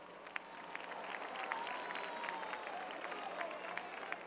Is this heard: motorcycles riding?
no